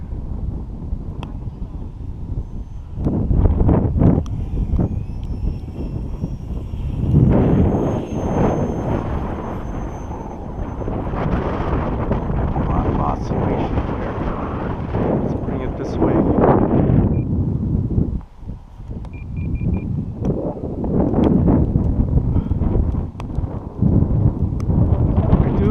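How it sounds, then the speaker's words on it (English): Outdoor winter wind buffeting a microphone while an E-flite Eratix radio-control plane flies, with loud bursts of gusty rumble rising and falling, a faint whine of the model's motor above, and someone talking at times. "Have a gust coming, guys."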